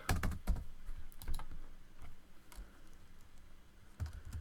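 Someone types on a computer keyboard at a desk while writing game text. Clusters of crisp key clicks come in uneven bursts, loudest at the start and again near the end, with no talking.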